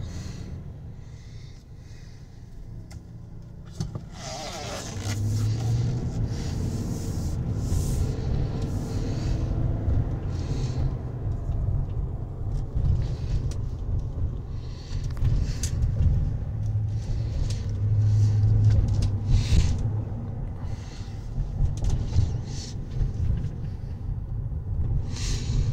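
A 2021 GMC Yukon SLT 4x4 pulls away and cruises, its low engine and road rumble steady from the cabin and swelling slightly mid-drive, with occasional faint clicks and knocks over the top.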